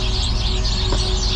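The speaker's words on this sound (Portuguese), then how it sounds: "olha o som dos passarinhos." Birdsong chirps faintly in the distance at dawn over a steady broadband hiss of outdoor ambience, with no voices.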